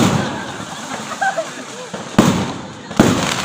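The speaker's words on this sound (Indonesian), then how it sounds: "bakar petasan gede banget." Large firecrackers set off outdoors during a religious lecture crack out as two sharp, loud bursts in quick succession, breaking over continuous talking and a murmuring room.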